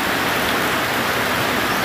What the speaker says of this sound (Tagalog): Yan, ulan, hindi tayo makalabas